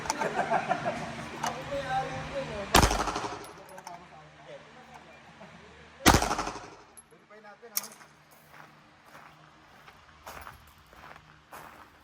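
Two loud, sharp gunshots from an Armscor STK-100 pistol drawn from a holster and fired, spaced a few seconds apart at an outdoor range, with later fainter pops and background noise.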